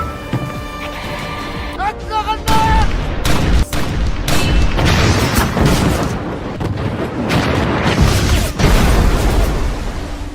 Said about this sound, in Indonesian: memerintahkan pasukan artileri untuk menembak ke segala arah